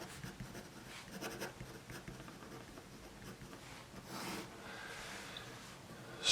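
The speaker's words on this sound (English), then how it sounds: "So now we're going to draw the network." Pen drawing a project network diagram on paper: soft continuous scratching strokes with short bursts and pauses, very quiet and close, alone with no talk.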